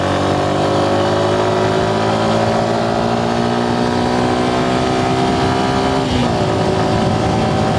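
A Suzuki Gixxer SF BS6 motorcycle accelerates, its engine note climbing steadily through a long pull before a brief dip and recovery near the end, loud and close with no talk.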